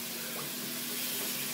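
Water from a tap runs steadily while a shaving brush is rinsed after lathering shaving soap, a soft continuous splashing hiss close by with no voices.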